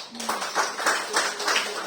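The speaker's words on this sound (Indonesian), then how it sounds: "Ya, kita tepuk tangan ya." A church congregation at a Sunday service claps in rhythm, a moderately quiet series of evenly spaced claps repeating about every third of a second, sounding roomy and a little distant.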